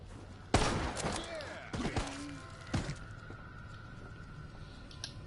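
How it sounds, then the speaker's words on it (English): Three shotgun blasts in Resident Evil Resistance, the first loud and sharp, then two more spaced about a second apart, each with a quick decay over faint background game ambience. "Three shotgun rounds"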